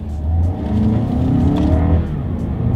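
2020 Lexus NX 300 F Sport SUV engine revving loud and close during paddle-shift changes, a steady droning roar with rising and falling pitch and a brief dip as a gear changes.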